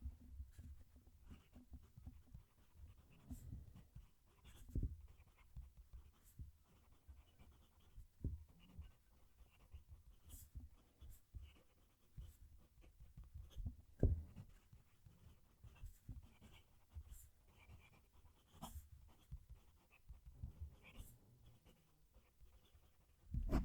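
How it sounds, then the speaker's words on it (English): A Kaigelu 316 fountain pen writes on paper close up, with a soft, irregular scratching and swishing of nib across the page, quiet throughout and broken by brief louder strokes and taps. "I'm going to move the mic down to the page so you can hear the pen writing."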